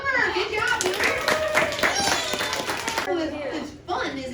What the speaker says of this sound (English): Let's clap for Boomer.